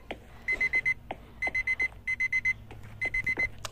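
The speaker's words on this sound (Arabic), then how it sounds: "فين المنبه ده؟" An alarm clock in a streamer life simulator video game rings in repeated bursts of four sharp electronic beeps, steady and loud over faint background ambience.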